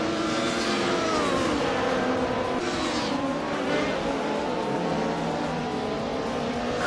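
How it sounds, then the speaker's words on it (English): Race cars roar continuously in a racing video game that includes a 1990 Mercedes 190E Evo 2, with engines droning and shifting pitch over steady game audio. "Gina Jones is driving a 1990 Mercedes 190e Evo 2. She is currently in 7th place, holding her position pretty steady but not quite making a move forward."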